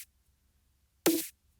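One short, bright snare drum hit, a duplicated sample pitched up an octave, cracks once near the middle of an otherwise quiet stretch, crisp and close with a brief decay.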